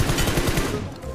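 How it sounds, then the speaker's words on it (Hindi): Rapid automatic gunfire in the mobile battle royale game BGMI, a loud continuous burst of rattling shots close up for about a second before trailing off. "इधर से गोली आ रही है"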